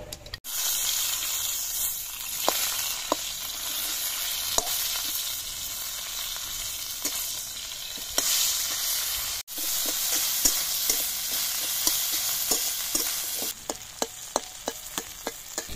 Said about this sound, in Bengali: মাছের মাথাটা সুন্দর করে ভাজা হয়ে গেছে